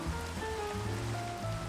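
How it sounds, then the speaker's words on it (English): Soft rain in the Minecraft video game, a faint, steady patter with a low watery rush and some tonal game sounds faintly underneath. "It's just a little bit of rain."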